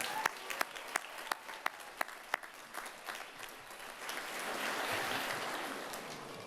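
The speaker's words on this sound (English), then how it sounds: "Let's give them all a round of applause again." Applause from a community college commencement audience: a few sharp, distinct claps at first, then a broad, softer swell of clapping from a large, distant crowd.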